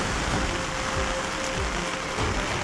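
Heavy monsoon rain in Amreli, a dense, steady hiss of falling water pouring evenly throughout, loud and continuous with no speech.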